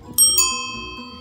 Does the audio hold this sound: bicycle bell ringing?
yes